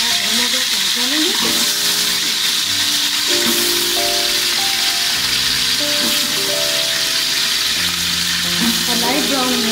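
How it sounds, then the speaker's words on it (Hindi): Onions frying in hot oil for chicken pulao, a steady dense sizzle and crackle close by, with faint clinks and rattles of stirring and a music bed running underneath throughout. "और लाइट ब्राउन होने तक अपने प्याजों को फ्राई करेंगे।"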